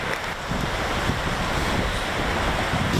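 Strong wind gusting in Algonquin park woods, a loud continuous roar buffeting the microphone with no break across the clip.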